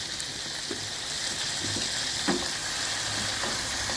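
Tomatoes fry and get stirred in a pan for a nut-rich biryani, a steady close sizzle with occasional scrapes of a spoon and no voices.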